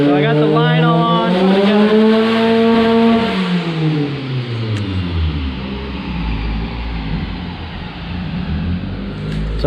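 A Honda Prelude H22 engine fitted with an H23 non-VTEC head revs up and sweeps back down while being tuned nearby, loud and throaty, before settling into a rough idle.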